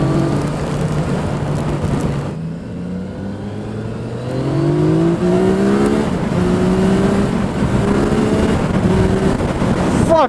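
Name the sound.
Yamaha MT-09 SP motorcycle accelerating hard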